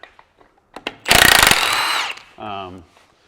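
A cordless power tool with a dying battery, used while working on the axle of a Ford F-250, gives a short loud whirring burst. A weaker, sagging whine follows, with faint voices around it.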